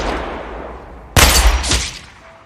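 A sudden burst of gunfire in an action film scene, several rapid loud shots fired close together, breaking in abruptly after a low rumbling background and trailing off with some echo.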